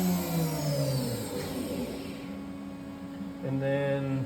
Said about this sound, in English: even at that high RPM, the bearings sound great